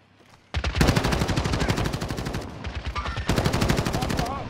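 Rapid automatic gunfire in the Call of Duty Warzone battle royale game, loud sustained bursts of fast, evenly spaced shots after a quiet start, with a brief gap before another long burst.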